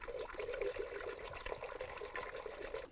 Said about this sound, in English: Now add your appropriate coolant and level.